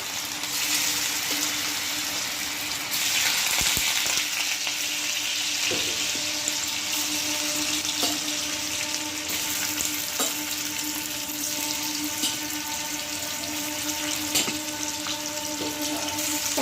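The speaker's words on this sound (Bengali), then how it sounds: "এবার আমি পনিরগুলোকে একটা একটা করে ঢেলে দেবো ভাজার জন্য।" Homemade paneer pieces fry in hot white oil, a steady loud sizzle running throughout with occasional spatter pops and light stirring clicks, no talking.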